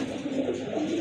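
Pigeons coo close by, a soft, low, rolling burble that rises and falls in quick overlapping calls, with no talking over it.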